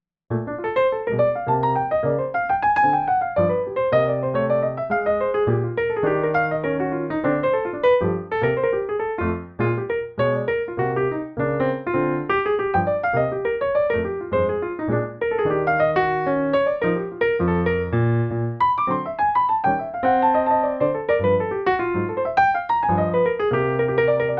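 Solo jazz piano plays fast bebop lines over a rhythm changes chord progression, continuous and fairly loud throughout.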